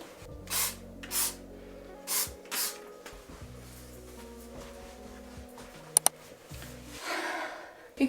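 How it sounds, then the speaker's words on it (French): A spray bottle of cleaner is squirted onto a mirror in four short hissing bursts in two quick pairs, close by, followed by faint handling clicks and a soft wiping rustle. "je vais nettoyer ma glace"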